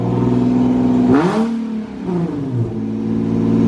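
A Nissan GTR fitted with a new custom exhaust idles with a deep drone, then revs sharply upward, drops back and holds at a steady rumble. The engine is close and loud, with no voices.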